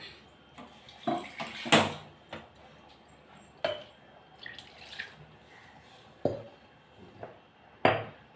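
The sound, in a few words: pouring water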